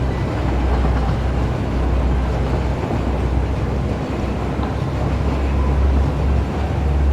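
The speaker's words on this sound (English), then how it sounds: "This train's a little jerkier than I remembered." Train riding along tracks in the Satisfactory video game, a steady loud rumble with low clatter and occasional jolts running throughout, no talking.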